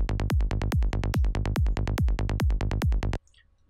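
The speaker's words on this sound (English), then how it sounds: "I'm going to play you the kick and bass." Psytrance kick and bass loop playing alone: a rapid, steady run of about a dozen punchy kicks each followed by a rolling bass note, loud and tight, stopping abruptly near the end.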